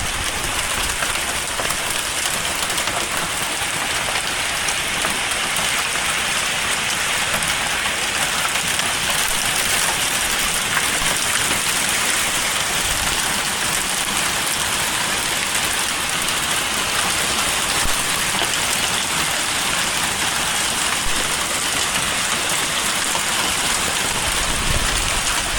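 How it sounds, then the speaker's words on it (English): Steady, dense patter of a hailstorm with heavy wind, ice pellets drumming continuously on surfaces outdoors in a broadband roar that holds constant and fairly loud with no talking. "See all this hail."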